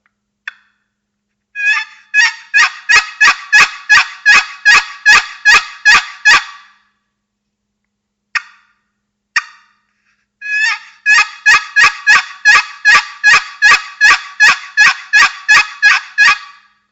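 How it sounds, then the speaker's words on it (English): A Talking Stick Game Calls box call rasps out loud, close turkey yelps in two long rhythmic runs, each a rapid series of scratchy, honking notes separated by a brief pause with a couple of isolated clucks. "This is another box call that's got a little different sound,"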